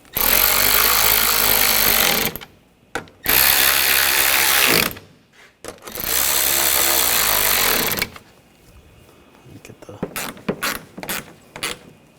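Ratchet tool snugging down the front grille fasteners on a 2007-2013 BMW X5, heard as three long, loud, close clicking runs separated by brief gaps. Sparse lighter clicks and taps follow at the end.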